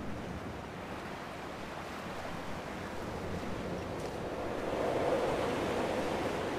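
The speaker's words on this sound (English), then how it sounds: "Although it usually is windy when you're by the coast." Steady wind and surf on a coastline in the game Dear Esther, a continuous broadband rush that swells slightly louder near the end, with no voices.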